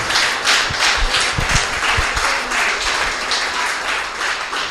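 A church congregation applauds steadily during a worship service, with dense, sustained clapping and a few low thumps underneath, the sound filling the room throughout.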